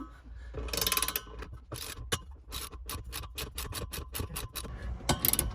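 A hand ratchet tightens the strut bar bolts on a BMW E46 M3, giving rapid clicking runs broken by short pauses, close and clear, with no speech.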